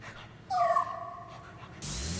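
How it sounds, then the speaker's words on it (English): Polterpup, the ghost dog in the video game Luigi's Mansion 3, lets out a short high whimper followed by softer breathy whines, then a burst of bright noise at the end. "I like the polter pup."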